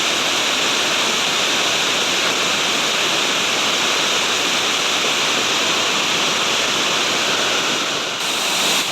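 Steady, loud roar of a waterfall, a constant rushing wash of water that fills the whole stretch without a break.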